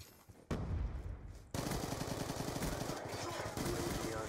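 Rapid automatic gunfire in the video game Black Ops 2, a dense, loud burst that breaks off briefly and then resumes as sustained rattling fire, with no talking.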